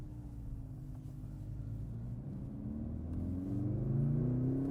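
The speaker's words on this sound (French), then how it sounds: "Ouais, c'est le vrai son de la 45" A Mercedes-AMG A45 S engine rumbles steadily at close range, its low drone rising in pitch and building in loudness as it accelerates over a few seconds.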